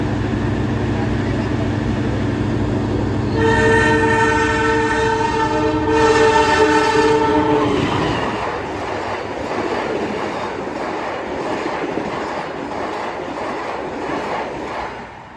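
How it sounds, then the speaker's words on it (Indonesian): The Mutiara Selatan express train sounds a long chorded horn, then thunders past close by at about 120 km/h, the roar and rattle of wheels on rails continuing steadily. "Kebut banget kereta api Mutiara Selatan, berjalan sekitar 120 km per jam."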